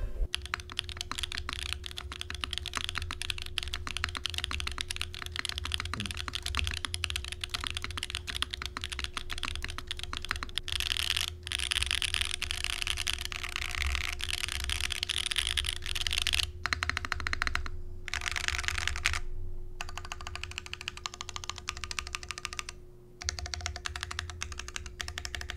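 Typing on a Mode SixtyFive mechanical keyboard with GMK Tiramisu keycaps, a carbon fiber plate and no foam: a dense, steady patter of close keystrokes with a few short pauses, over a faint steady hum.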